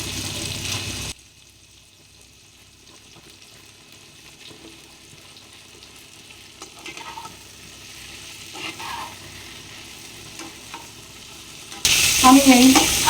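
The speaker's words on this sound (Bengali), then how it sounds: "আমি এই মশলাটার সাথে সবজিগুলো ভালো করে কষিয়ে নিয়েছি" Vegetables for shukto being sautéed with turmeric, salt and spices in a pan, a quiet sizzle with occasional stirring scrapes, then a sudden loud burst of sizzling near the end.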